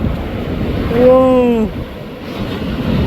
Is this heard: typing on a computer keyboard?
no